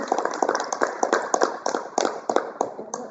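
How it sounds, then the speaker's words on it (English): Scattered applause from attendees at a school district board of education meeting, uneven claps tapering off over a few seconds with no talk. "Yes, I mean, we can applaud that."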